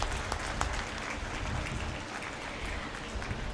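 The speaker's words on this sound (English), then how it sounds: "Can we begin this evening with a huge round of applause" Applause from the audience at an evening book launch for an autobiography, a steady dense patter of many hands clapping close by for a few seconds with no talk over it.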